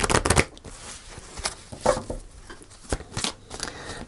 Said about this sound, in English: I'm just going to shuffle these.